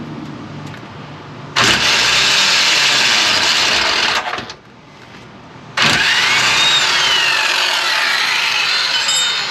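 A power tool working on the radius arms of a Range Rover Classic overland rig, two loud sustained bursts with a short drop and pause between them, close up and with no talk.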